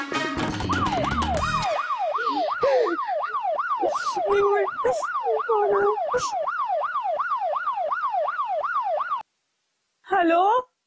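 A phone ringtone imitating a police siren wails in a rapid up-and-down pattern, loud and close and repeating steadily, then stops briefly before a short final burst.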